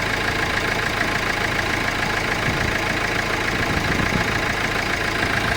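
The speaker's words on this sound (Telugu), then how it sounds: "ఇక్కడ ఇంజన్ అయితే చాలా స్మూత్ ఉంది" A used car engine idles smoothly with a steady, even drone and constant rhythm, close and moderately loud throughout, with no talking.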